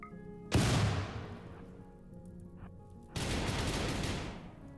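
Two long sustained bursts of turret gunfire in a space shooter game, each a harsh continuous roar that starts abruptly, separated by a quieter gap.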